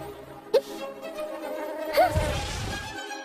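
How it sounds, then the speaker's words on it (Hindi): A swarm of mosquitoes in an animated story gives a thin, continuous buzzing whine, fairly faint, with a couple of short sharp effects. "अधिक से अधिक मच्छरों का झुंड आने लगा।"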